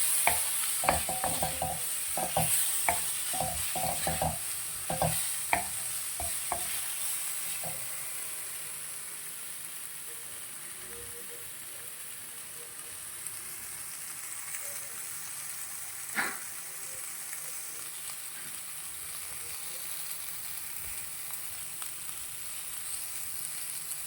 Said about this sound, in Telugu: బ్రొకోలీ పచ్చివాసన పోయేంత వరకు వేయించుకున్న తర్వాత నెక్స్ట్ పన్నీర్ యాడ్ చేయాలి.